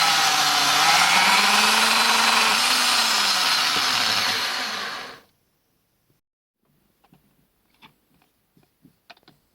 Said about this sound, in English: I drill a series of ventilation holes in the flange.